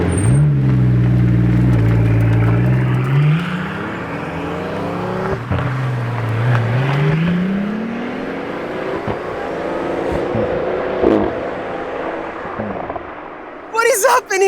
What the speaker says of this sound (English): Oh yes, the Imola Roadster again!